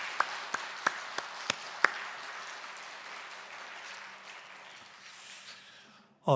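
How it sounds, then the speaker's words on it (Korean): A church congregation at a Friday service claps in encouragement, starting with a few sharp separate claps that give way to a soft, steady wash of clapping, which thins out and fades toward the end. "우리 그런 마음 담아서 우리 격려의 박수 한번 보내겠습니다."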